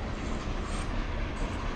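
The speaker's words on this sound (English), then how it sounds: "And there goes the train." A train passes by, a dense continuous rumble and roar that holds steady and fairly loud throughout with no voices.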